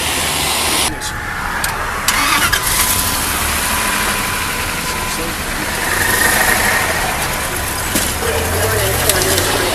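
A truck engine roars and revs loudly as the vehicle speeds away from a police stop with a deputy clinging to its side, sustained and close, with raised voices shouting over it.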